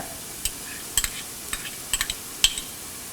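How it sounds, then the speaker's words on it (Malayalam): Onion, ginger, green chili and curry leaves sauté in a pan over a quiet sizzle, broken by a handful of sharp clicks and scrapes from a spatula stirring against the metal, close and without speech. "ആവശ്യത്തിന് ഉപ്പ് എന്നിവയെല്ലാം കൂടിയിട്ട് വഴറ്റുക"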